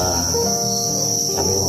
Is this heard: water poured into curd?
no